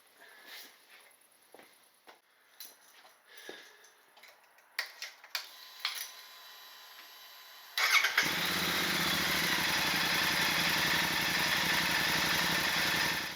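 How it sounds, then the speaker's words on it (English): After several seconds of clicks and mechanical fiddling, a Royal Enfield Super Meteor 650 with AEW performance exhausts fires up and settles into a loud, steady, throaty idle. "I'm gonna start the bike to hear the sound of the new performance AEW exhausts"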